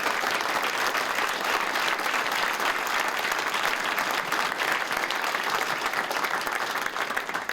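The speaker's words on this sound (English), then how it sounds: "Please, a big round of applause for our panel." Sustained applause from a sizable audience at a startup panel discussion fills the whole stretch, a dense steady wash of clapping that holds level without speech.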